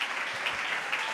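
A congregation claps at a Sunday morning church service, with brief, moderately loud and even applause from the crowd.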